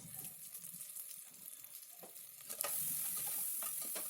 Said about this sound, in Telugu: అల్లం వెల్లుల్లి పేస్ట్ ఒక టీ స్పూన్ వేసి కలుపుకోవాలి